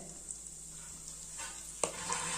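Pepper, cumin and curry leaves sizzle faintly in hot oil for barnyard millet pongal, a soft steady hiss with a small clink partway through and no talk.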